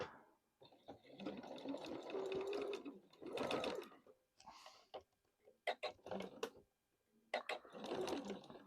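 A sewing machine stitching a 6-inch strawberry quilt block for a farm quilt runs in several loud, rapid bursts separated by brief pauses and soft handling noises.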